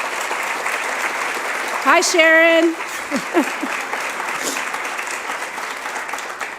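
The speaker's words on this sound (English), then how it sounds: "So please extend your applause." Audience applause at an evening award event honoring a Commander's Public Service Award recipient, a steady spread of clapping from a crowd running the whole way, with a voice greeting briefly over it.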